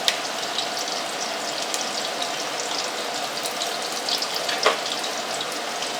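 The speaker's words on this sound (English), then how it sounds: "let's wait for the other half to be fried." Onion rings frying in a pan of hot oil, a continuous close, fairly loud sizzle with crackling pops and one sharper spatter, no talking.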